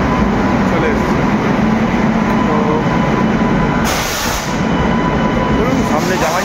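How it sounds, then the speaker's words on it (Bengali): Howrah Mail train pulling into a station platform, a steady loud rumble of wheels and carriages with station noise and people talking nearby. "দেখতে পাচ্ছেন আমাদের হাওড়া মেল চলে এসছে।"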